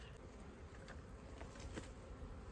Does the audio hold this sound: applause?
no